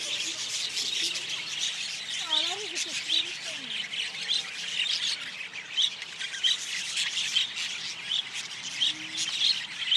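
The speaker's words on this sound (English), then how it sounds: "The birds are usually a whole lot more active." Scattered birds chirp and tweet with short repeated high calls, fairly close, over faint rubbing background noise, with no clear speech.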